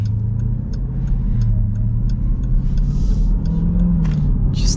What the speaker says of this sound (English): Yeah, you just get a nice deep rumble from the V8.